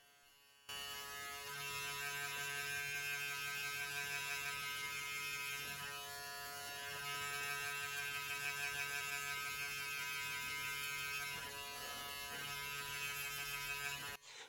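Electric hair clippers with a number 2 guard, fully closed, blend hair at the back of the head during a self haircut. They give a steady, close buzzing drone with a bright harmonic whine that runs almost the whole time without speech.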